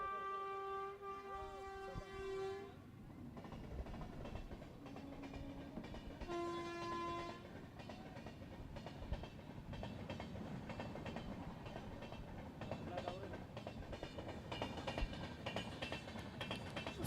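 An Indian Railways train passes near a village cricket ground. Horn blasts sound at the start and again a few seconds later over a steady, rumbling roll of wagons that lasts throughout and is heard from a moderate distance.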